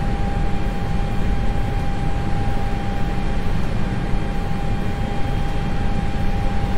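A Concorde taxiing in the X-Plane 11 flight simulator, its engines making a loud, steady roar with a constant whine on top, unbroken throughout.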